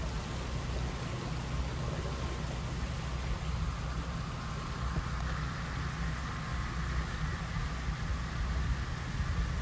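Rain from storm remnants falls steadily near a stream ravine in Yauco, Puerto Rico, a continuous even hiss and patter with underlying rushing, moderately loud throughout with no talking.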